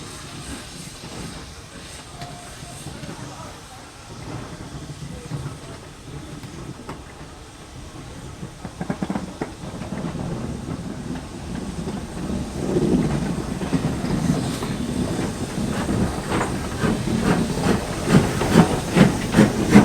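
An LMS Jubilee steam locomotive in Train Simulator runs with a steady hissing, rumbling rail noise that grows louder and rougher toward the end, with chuffing pulses building over a continuous background.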